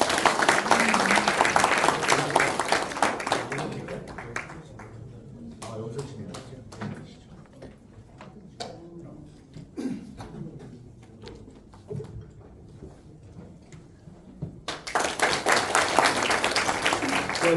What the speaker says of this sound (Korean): 우리 유석준 교수님을 단상으로 모실 때 큰 박수로 맞아주시기 바랍니다